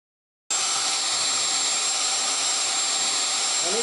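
A plunge router set at 24,000 RPM cuts into a walnut table top, starting abruptly with a steady, loud high-pitched whine that continues without a break to the end.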